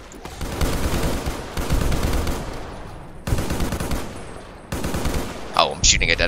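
Gunfire in Fallout New Vegas comes in several rapid bursts of automatic shots separated by short pauses, loud and close, with a brief high clinking sound near the end.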